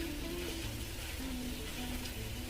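Ground beef sizzles steadily in a pan while a wooden spoon stirs and chops it. The frying is close and continuous, with no talking.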